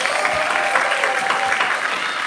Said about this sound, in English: let's make our friends on stage feel very welcome with a nice big round of applause.